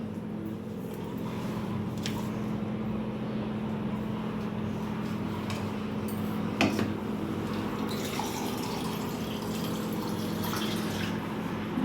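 Water pours steadily into a mixer jar of dry-ground chutney with coriander, a continuous close trickling and splashing that holds for several seconds without speech.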